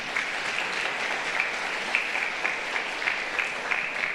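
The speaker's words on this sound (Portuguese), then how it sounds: "Dá um aplauso para o Marquinhos aí, gente." Congregation applause in a church service, a continuous, fairly even patter of many people clapping for several seconds at a moderate level, with no voices over it.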